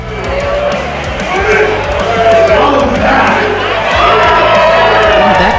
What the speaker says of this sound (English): the fans here at the 1720 Warehouse showing their appreciation